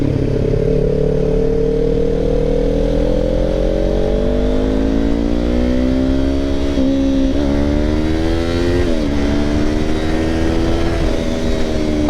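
A Kawasaki Ninja 500 motorcycle rides at highway speed, its engine loud and close with wind noise, the pitch climbing smoothly through the gears and dipping briefly at each shift.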